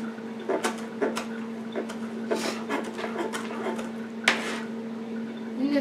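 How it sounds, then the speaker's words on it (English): A knife roughly chopping a bundle of garden vegetables, probably tomatoes, on a cutting board. The cuts land as a quick, irregular run of close, sharp chops over a steady low hum, with no talking. "Just bundle them all up and roughly chop them."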